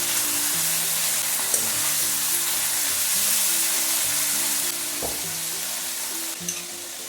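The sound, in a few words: chicken being stirred and fried on high flame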